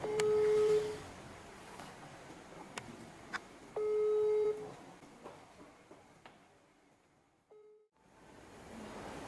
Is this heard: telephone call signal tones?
yes